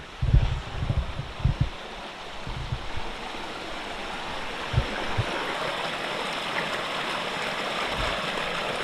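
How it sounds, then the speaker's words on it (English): Fresh mountain runoff stream flowing on a trail up Mount Carleton, a steady broadband rush of water running close by, with a few low thumps early on and no talking. "Some fresh mountain runoff water."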